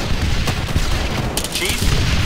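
Gunfire in the military shooter Arma 3, a dense, continuous crackle of shots and distant booms filling the whole stretch, steady and fairly loud with a brief faint voice under it.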